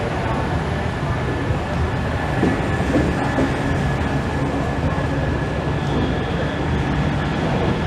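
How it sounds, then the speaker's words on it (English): A Brussels metro train rumbles steadily along the tracks, a continuous loud roar with faint rattling, heard from inside or very close. "They are very fast-moving trains."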